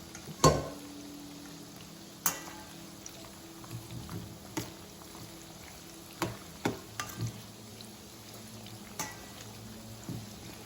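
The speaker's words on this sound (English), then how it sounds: "These need to be fried slowly and steadily for a longer time." Masala peanut pakoda frying slowly in hot oil, a low steady sizzle with scattered sharp pops and crackles, and a louder burst near the start.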